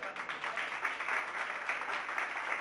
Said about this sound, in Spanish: les corto el aplauso